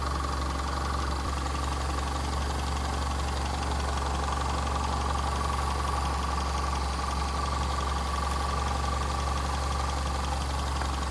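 A Toyota 4K engine in an owner-type jeep idles steadily at low rpm after carburetor tuning, a close, continuous mechanical hum with a faint rhythmic knock and no talk over it.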